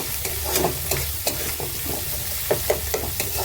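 A spatula stirs and scrapes a masala of chili powder and egg frying in a pan for Bengali tadka, repeated knocks and scrapes over a steady sizzle, close with no talk.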